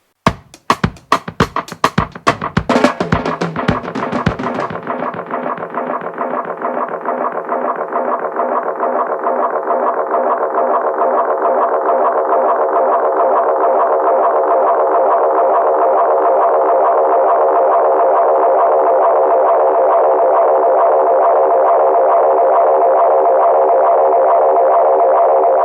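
A vintage Roland Space Echo 201 tape echo opens with sharp repeating echo hits, then settles into a loud, sustained, dense wash of repeats that holds steady to the end.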